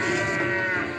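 A single electronic cow moo sounds from a Galactic Tank Force pinball machine: a short, fairly loud, drawn-out lowing tone lasting about a second.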